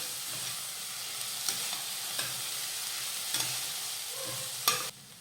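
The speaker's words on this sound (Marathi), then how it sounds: "आता हे छान परतून घेऊयात" Sprouted moth beans (matki) sauté in a pan with a steady, close sizzle, punctuated every second or so by sharp scrapes and clacks of a spoon stirring them.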